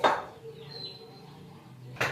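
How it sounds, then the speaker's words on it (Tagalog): Dishes being washed at a home sink, with plates and cutlery clinking and scraping in brief clattering bursts at the start and end and quieter rattling between. "Habang nahuhugas tayo ng pinggan"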